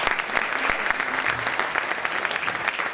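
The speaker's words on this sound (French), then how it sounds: "merci de les applaudir déjà" An audience at an opening ceremony claps for three seconds, a brisk and dense burst of many hands at fairly close range, with no talk over it.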